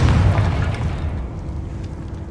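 A Confringo spell blast in Hogwarts Legacy lands as one heavy, booming explosion at the start, then rumbles down into a fading low roar.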